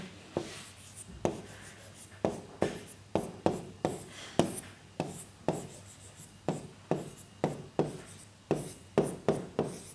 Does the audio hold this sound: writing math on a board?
yes